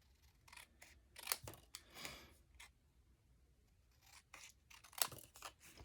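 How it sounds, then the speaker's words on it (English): Scissors snip out paper rectangles for a Paper Pumpkin pumpkin card, several crisp close cuts spaced irregularly with sharp blade snaps and quiet paper rustle between them, no voices. "I'll just cut these out really quickly"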